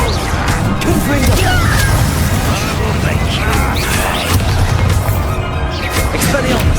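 Fiery Confringo spell blasts in Hogwarts Legacy gameplay on PS5 Pro, a dense, loud rumble of booming explosions and crashes running continuously throughout.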